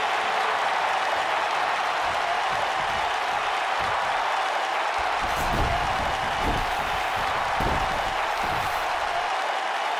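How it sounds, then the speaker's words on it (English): A dense, roaring arena crowd from the wrestling video game WWE 2K19 cheers and claps steadily through a title match, with occasional low thuds from the ring beneath the constant wash. "This crowd has literally been on the edge of their seats ever since this title match kicked off."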